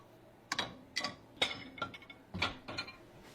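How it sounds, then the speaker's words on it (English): Dirty dishes set into a dishwasher rack: a series of about eight sharp clinks and clacks at irregular intervals, close and fairly quiet with no voices. "Load them in the rack."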